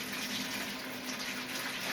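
Cold water gushes steadily from an opened pipe that used to feed a washing machine, still under pressure, making a loud, continuous, close hiss and splash with no pauses.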